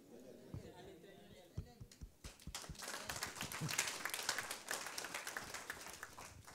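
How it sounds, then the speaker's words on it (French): Scattered, hesitant clapping from a church congregation during a sermon, a few claps at first that thicken into a modest, uneven patter of applause with murmuring voices underneath. "Tu acclames timidement"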